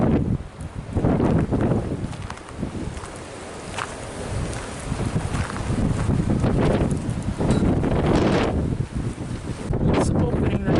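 Strong gusty wind buffets an RV. The loud, rough roar and rustle swell and ease in waves and stay close to the microphone throughout.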